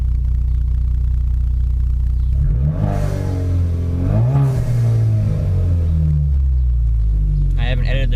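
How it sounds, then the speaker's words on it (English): A 2017 Chevrolet Camaro with a 2.0T engine and cold air intake idles with a deep rumble, then rises in pitch through a quick rev and falls back, loud and close. "Here's a quick rev for you guys."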